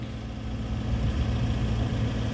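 A Sumitomo SH130-6 excavator, a 13.5-ton machine, runs with its diesel engine at a steady low idle, a close, continuous rumble throughout with no voices.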